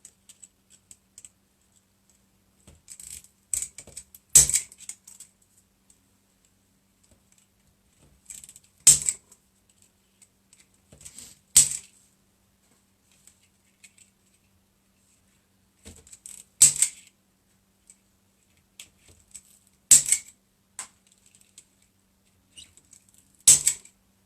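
Plastic tie wraps on an Easter wreath are clipped off one after another, making sharp isolated clicks and snaps spaced a few seconds apart, with faint rustling between them and quiet gaps.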